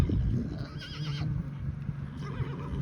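A free-grazing herd of horses whinnies loudly while running to water, over a background of shuffling hooves and rumbling movement, several animals close by.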